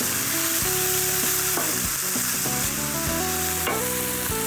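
Onions sizzle and fry steadily in a pan with cumin seeds, with a spoon stirring through them at intervals; a close, continuous frying hiss with soft scraping throughout.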